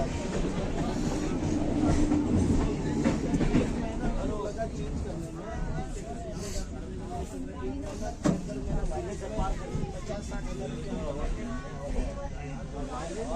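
A passenger train travels from Jasidih toward Asansol with a steady rolling rumble and rattle throughout, heard from inside the carriage, with background chatter from other passengers.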